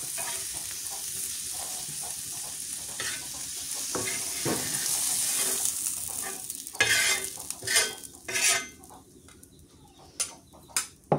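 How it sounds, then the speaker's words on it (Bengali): Garlic, chili and coriander leaves frying in oil in a village kitchen, a steady high sizzle punctuated by stirring scrapes and clatters, with occasional bird and chicken calls in the background. "এর মধ্যে আমি ধনিয়া পাতা দিয়া একটু তেল দিয়ে দিলাম, এটা ভাজা নামাই নিই"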